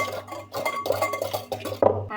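Cake batter with oil and half a glass of milk being stirred in a bowl, a utensil clinking and scraping against the sides in quick irregular strokes, close and moderately loud with no talking.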